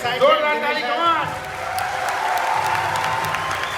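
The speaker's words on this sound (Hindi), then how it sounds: "जोरदार ताली, come on." Crowd applause with some cheering at a motivational success-story event, building after a brief spoken line, fairly distant and steady clapping under a lingering voice.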